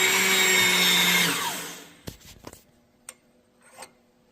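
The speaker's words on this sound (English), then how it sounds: "instead of drilling them, we're just going to punch them" A punch press drives a 3/8 inch hole through an angle iron bracket: a loud mechanical grinding run fades out, then come several sharp separate clanks and knocks.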